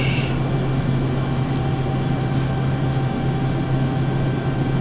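A T-6A Texan II turboprop on approach in Microsoft Flight Simulator, with gear down and flaps set: a steady, loud, droning engine hum with a constant low tone and broadband rush, unbroken throughout. A few faint clicks come through.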